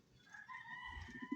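Gamefowl roosters kept outdoors give a faint, brief crow with a few soft clucks at the end, quiet and somewhat distant, with no voices.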